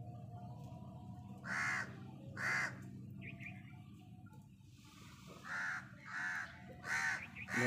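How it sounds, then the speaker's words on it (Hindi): Crows perched overhead caw in short harsh bursts, a pair of calls, a pause, then a run of several more, set against a quiet outdoor background where peacocks and other birds are kept. "कौवे भी ऊपर बैठे शोर डाल रहे हैं"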